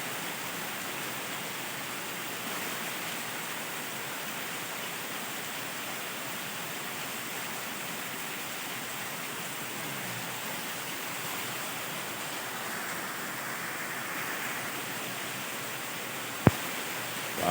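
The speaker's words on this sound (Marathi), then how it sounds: "आता पाऊस तर जोरात पडतोय" Heavy rain pours down steadily at night in the Konkan countryside after a midnight fishing trip, a dense constant hiss with one sharp click near the end and no voices.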